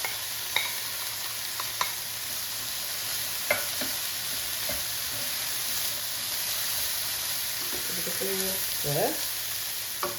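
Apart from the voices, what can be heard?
mince frying and being stirred in a pan with garlic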